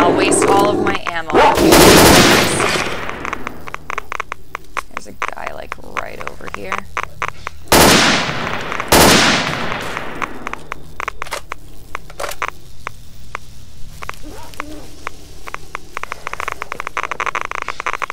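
Gunfire in the video game STALKER: Oblivion Lost, with heavy, loud shots standing out near the start and again around the middle against a constant noisy game background, without anyone talking.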